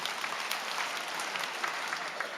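A church congregation applauds, a dense wash of many hands clapping at a moderate distance, steady and unbroken throughout without any voices standing out.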